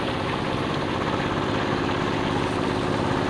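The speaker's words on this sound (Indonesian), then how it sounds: "traktor yang bekerja. Membajak sawah." A tractor plowing a flooded rice field in Bali runs with a steady, loud, low engine drone that holds unbroken throughout.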